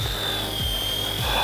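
A beginner RC helicopter's small motor gives a steady, thin high-pitched whine with a faint low rotor flutter as it lifts off, fairly quiet and alone.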